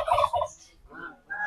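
A turkey gobbles loudly and close by in a rapid, rattling burst, followed by a couple of shorter, softer calls.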